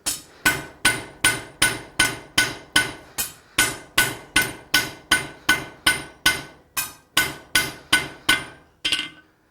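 Steady hammer blows ring out on hot steel on an anvil while forging a fire poker, about twenty sharp, evenly spaced strikes with a bright clang, close and loud, ending with a slight scrape.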